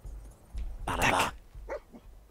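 A dog companion barks in the video game Fallout 4, giving one loud, close burst of barking in the middle, followed by a fainter yelp or whimper, over a low rumble of game ambience.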